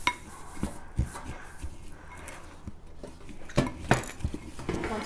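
Pumpkin seeds are stirred with salt in a bowl, a utensil knocking and scraping in irregular light clinks and rattles at close range.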